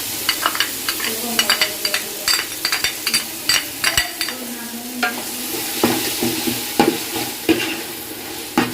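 Onions and tomatoes fry with ginger garlic paste in a pan, a steady sizzle broken by repeated scraping stirs and light utensil clinks, close and with no talking.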